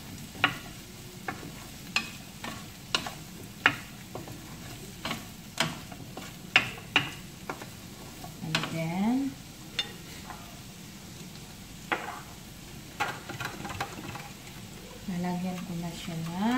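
Broccoli and vegetables frying in a pan for a shrimp curry, a steady sizzle under repeated sharp ticks of a utensil stirring against the pan, with someone speaking throughout.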